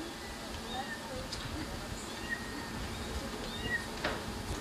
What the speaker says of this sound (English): we located the kitten, the black kitten.